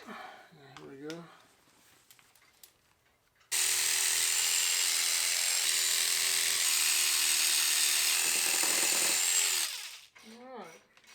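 A power tool trims the grill cover on a 5th-gen 4Runner during an ARB bumper installation, letting out one loud, continuous high-pitched whine for about six seconds, with someone talking briefly before and after.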